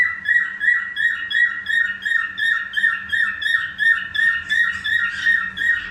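A caged canary sings loud and close in a quick, regular run of repeated whistled notes and trills, pulsing steadily for several seconds with no voices.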